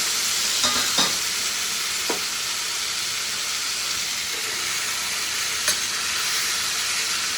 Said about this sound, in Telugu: ఇప్పుడైతే బంగాళదుంపలు కూడా వేసేసుకుంటున్నాను నేను